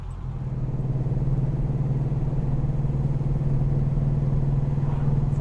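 Lancia Flavia flat-four engine pulling steadily in fourth gear of a four-speed box on a country road, a continuous low droning hum heard from inside the car, loud and even throughout with no talking.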